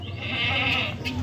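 A Kathiawadi goat bleats once, a single drawn-out nasal cry close by, lasting about a second.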